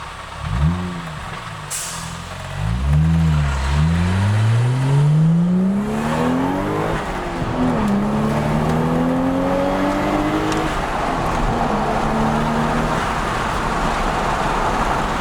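A Toyota Soarer's engine revs up close, climbing and falling through several pulls with rising, whining pitch, then settling into a steadier high rev, loud and alone.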